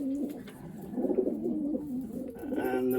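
A racing pigeon in a family loft gives repeated soft, throaty coos in a rolling rhythm, close by, with faint background noise and no talking.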